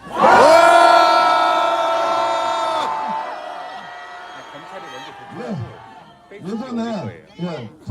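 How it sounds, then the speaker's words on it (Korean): A political rally crowd lets out a loud, sustained roar in unison for about three seconds, then trails off into scattered shouts and cheers that rise and fall. "다 같이 2초간 함성 한번 질러보면 어떻겠습니까? 함성 시작!"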